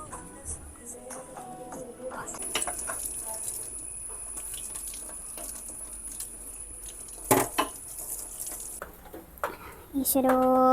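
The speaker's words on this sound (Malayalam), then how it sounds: "ഓയിൽ ഒഴിച്ചു എന്നിട്ട് ചെറുതായി അരിഞ്ഞു വെച്ചിരിക്കുന്ന ചിക്കൻ അതിലേക്ക് ഇട്ടു കൂടെ കുറച്ച് ഉപ്പും ചേർത്ത് കൊടുത്തു എന്നിട്ടത് നന്നായി ഇളക്കി കൊടുത്തു" Chopped chicken and salt frying in oil in a pan, stirred with a utensil: steady sizzling with frequent scraping and clinking strokes against the pan, and a few louder knocks near the end.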